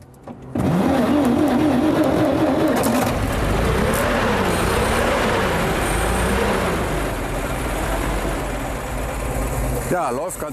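A vintage car engine idles and runs steadily with a low rumbling drone, close by, with some faint talk and rattling mixed in.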